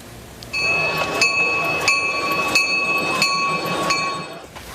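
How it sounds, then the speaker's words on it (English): Christmas train ride in Bogota, Colombia: sustained ringing tones with regular metallic, bell-like clanks about every half second or so, fairly loud and close, with no clear speech. "Bogota opened their Christmas train this week"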